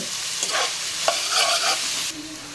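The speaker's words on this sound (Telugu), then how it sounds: "ఆయిల్ మరిగిపోయాక ఉల్లిపాయలు వేసేసుకుంటాం" Onions frying in hot oil for a fish curry, a bright continuous sizzle broken by a few scraping stirs of a spoon, close and fairly loud, no talking.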